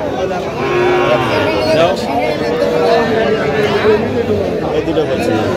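Young bull calves mooing at a crowded cattle market, several drawn-out moos one after another close by, mixed with the chatter of buyers and sellers.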